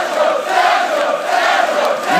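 A festival crowd in a public square at the Gentse Feesten applauding and cheering, a dense, loud, continuous roar of clapping and voices with no pauses.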